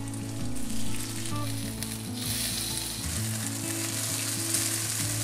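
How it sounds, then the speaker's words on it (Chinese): Marinated meat sizzles steadily in a hot pan as it fries golden on both sides, a close, continuous crackle with a low steady hum underneath and no talking. "下锅2面煎到金黄"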